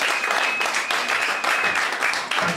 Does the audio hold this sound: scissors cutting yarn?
no